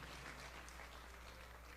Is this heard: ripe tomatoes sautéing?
no